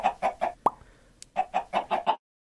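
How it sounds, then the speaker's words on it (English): Chicken clucking in a farmyard, a rapid series of short, close clucks in two bursts separated by a brief pause, with one sharp higher squawk between them and no talk. "Yo, chicken!"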